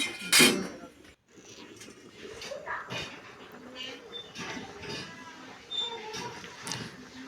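A spoon stirs prawn and taro curry in a pot, Bengali style, and a clay lid clinks against it. The clatter and scraping come close up, with one sharp knock near the start and lighter scrapes and taps after.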